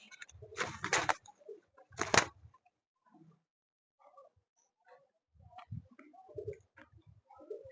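Pet flying pigeons coo in soft, low bursts at close range, separated by pauses, with a few louder broadband rustles or flaps near the start.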